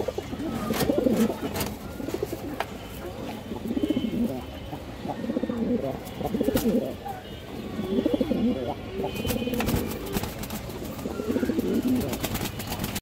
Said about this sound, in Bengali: দর্শক, এগুলো সাপচিলা কবুতর